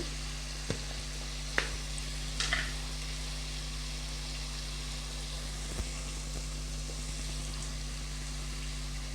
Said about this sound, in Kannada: ಹಸಿ ವಾಸನೆ ಹೋಗೋವರೆಗೂ ಚೆನ್ನಾಗಿ ಫ್ರೈ ಮಾಡ್ಕೊಬೇಕು